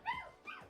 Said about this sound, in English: My dogs are dumb.